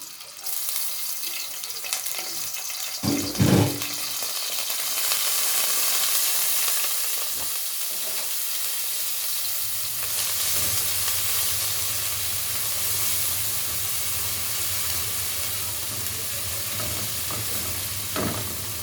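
Onions frying in ghee and oil, a loud continuous sizzle with occasional scraping and stirring knocks, intensifying partway through as more onion hits the pan.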